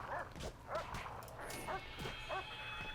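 A dog in the video game Prison Architect gives short yipping barks, roughly five of them spread evenly, faint and set against a low background hum.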